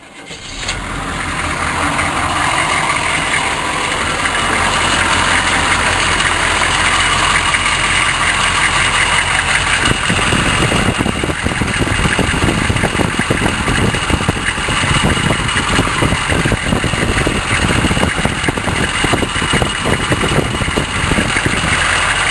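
A car engine cranks at the start and settles into a steady, loud idle that fills the rest of the stretch, with a rougher, pulsing rumble in the second half.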